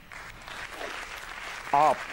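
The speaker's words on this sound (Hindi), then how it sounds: "आपकी भरपूर तालियों में आमिर सोहेल" A studio audience on a televised cricket talk show applauds to welcome a guest, a steady spread of clapping of moderate loudness, with a brief voice or musical tone rising over it near the end.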